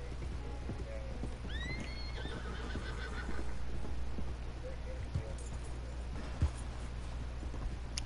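A horse in the video game Red Dead Online gives a clear whinny early on, with hoof clip-clop and game ambience following and a voice talking at times.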